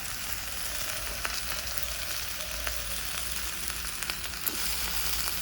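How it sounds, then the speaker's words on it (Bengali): Green chili, ginger and cumin paste frying while being stirred, a moderate steady sizzle with light scraping stir sounds. "আদা জিরা দিয়ে ভালো করে নাড়াচাড়া করে"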